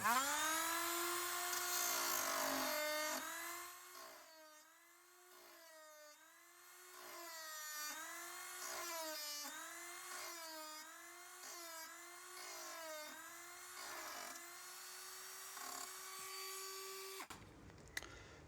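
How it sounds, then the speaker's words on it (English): A Dremel rotary tool grinds a flat side onto a small part for a cooker saver installation, its high whine running steadily for about seventeen seconds, wavering in pitch as it bites the metal, then cutting off abruptly. "So I'll try and grind this while filming it."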